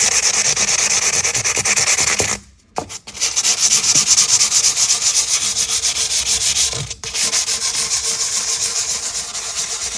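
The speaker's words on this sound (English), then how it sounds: "I'm going to start 400 grit side." A 400 grit polishing pad rubs back and forth over guitar frets in a steady, loud, close scratching rhythm, pausing briefly twice.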